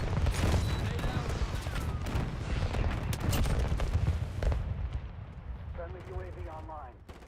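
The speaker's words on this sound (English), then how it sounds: "Using a tactical. Grenade out." A grenade going off amid gunfire in a first-person shooter video game, a dense, loud stretch of blasts and rapid shots that thins out near the end into quieter game sounds.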